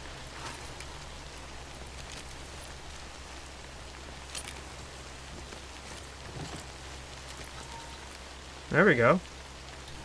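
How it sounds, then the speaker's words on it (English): Steady rain patters across a surface throughout in Death Stranding, an even soft hiss with a low hum beneath; someone speaks briefly near the end. "Could I sleep through this shitty-ass rain?"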